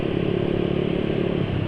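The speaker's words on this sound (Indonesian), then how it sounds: "Kalau sekarang mau gini buka gaspol gitu, nggak begitu nyentak ya" A motorcycle engine held at wide-open throttle on gasoline treated with an essential-oil fuel additive, giving a loud, steady, continuous roar close to the microphone for under two seconds.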